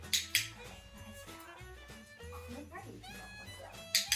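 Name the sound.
excited dog during hoop training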